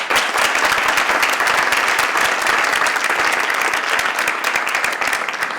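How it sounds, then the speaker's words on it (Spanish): Audience applause after a colloquium on short-lived love pieces, loud dense clapping from a crowd sustained throughout, close and full without a break. "Un aplauso para el público."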